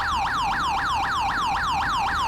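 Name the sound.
police siren in a video game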